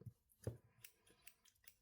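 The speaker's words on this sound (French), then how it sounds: "Vous avez les super ciseaux, qui sont trop bien." Embroidery scissors from a cross stitch kit are handled with a few soft, close metallic clicks and light taps, quiet and sparse.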